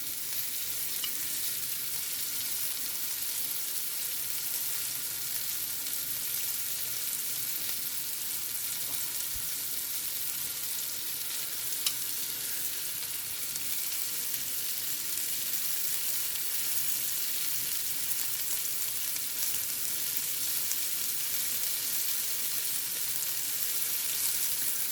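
Beef chunks for stew sear in a hot pan with a steady, even sizzle and crackle that stays close and unchanged throughout, with no voices over it.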